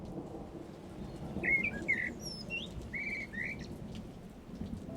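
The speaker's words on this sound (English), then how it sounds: "Beneath her window, in the bough of the giant bluebell tree, the bluebird began to sing." A bluebird sings a few bright, high, short chirping phrases over steady rain and distant thunder, moderately close and clear above the storm's hiss.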